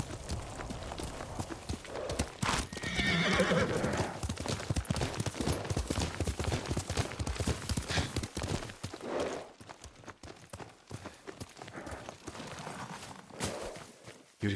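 Horse hooves clip-clopping in Ghost of Tsushima, a steady, fairly close run of hoofbeats over dense game ambience, with faint voices briefly present.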